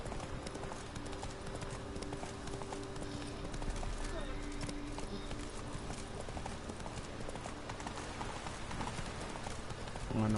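Hooves of Roach, a horse in the Witcher 3 video game, clip-clop in a steady, continuous rhythm over a soft rain-like background, with talking running over the top.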